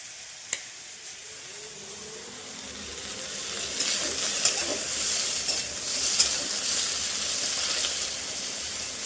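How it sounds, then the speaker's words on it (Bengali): Lightly parboiled vegetables fry in a hot pan, giving a steady, close sizzling hiss with a few sharp pops and faint stirring scrapes, and no one talks. "এগুলো এবার ভাজা ভাজা হবে"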